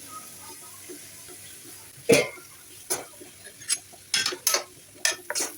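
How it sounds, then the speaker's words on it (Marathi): Onion and grated coconut roast in hot oil in a pan as a spatula stirs them, making scattered scraping and clinking strokes against the metal, faint and close, over a quiet sizzle. "कांदा खोबरं हे जे आहे लाल होईपर्यंत आपल्याला व्यवस्थित एकत्र भाजून घ्यायचं आहे"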